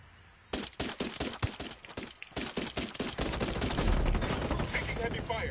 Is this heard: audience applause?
no